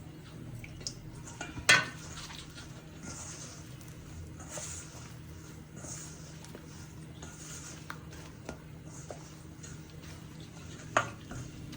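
Millet rotla cooks in ghee on a tawa with a low continuous frying hiss, punctuated by occasional clinks and scrapes of a utensil against the pan.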